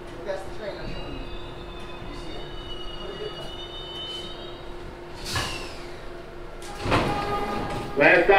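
A New York City 42nd Street Shuttle subway train pulling into Grand Central, with a steady rumble and hum, a brief screech of wheels midway and louder rattling near the end as it comes to a stop.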